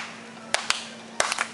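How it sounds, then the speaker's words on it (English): A few scattered hand claps from an audience at an event, four or five separate sharp claps spaced irregularly, fairly close and over a quiet room with a faint steady hum. "Can you clap?"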